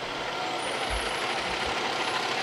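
A brand new Lincoln Fire and Rescue fire truck rumbles nearby with a steady low engine drone and a soft hiss of air brakes, heard without any talking.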